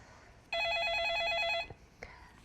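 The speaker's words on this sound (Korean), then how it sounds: "다음 전화 이어서 받아보겠습니다" Telephone bell ringing for an incoming call during a stock-market phone-in consultation show, a steady warbling electronic ring lasting about a second, loud and clear against a quiet background, followed by brief faint noises.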